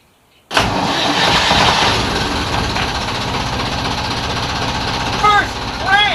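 A rebuilt Perkins marine diesel engine on a classic wooden boat cranks and catches abruptly, then settles into a loud, steady, rough running clatter up close, with a brief voice near the end.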